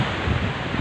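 Sea waves driven by strong wind slam against coastal village houses in Pemukutan during roughly 3-metre surf, a dense, steady roar of surf and wind buffeting, loud and close with no talk.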